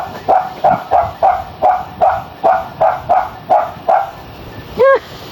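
About ten sharp, evenly spaced barks from a nearby dog, ending in a single higher yelp.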